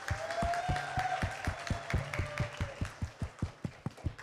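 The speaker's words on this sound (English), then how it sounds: "Please give a big round of applause for Narendra Uncle." An audience at a JSSD Mahavir Janma Kalyanak community gathering gives a round of applause, beginning as dense clapping and thinning into a steady, rhythmic beat of single claps, moderately close.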